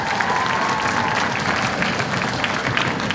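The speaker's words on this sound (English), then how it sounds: "let's give Mrs. Forrest a round of applause" Steady applause from the audience at a fifth grade band winter concert, a dense, even clatter of many hands clapping close by with a faint crowd murmur beneath.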